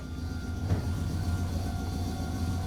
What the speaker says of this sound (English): Let's ride the local train.